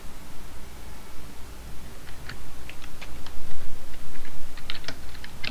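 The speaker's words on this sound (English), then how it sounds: "And I'm gonna type this." Typing on a computer keyboard while updating to Windows 10 Redstone 2, with quick irregular key clicks that start sparse and grow into busier bursts over a low steady hum.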